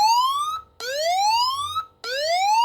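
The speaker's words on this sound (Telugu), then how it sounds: "పట్టుకోగానే అలారం అలర్ట్ అవుతుంది." A mobile phone anti-theft alarm app blares a loud siren-like wail close by, three rising sweeps in a row with brief gaps between them, sounding alone with no talk.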